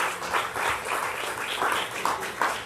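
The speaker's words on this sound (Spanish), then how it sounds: "Den un aplauso a Dios" A church congregation gives applause during a sermon, a brief, moderately loud burst of many hands clapping in uneven waves lasting a few seconds.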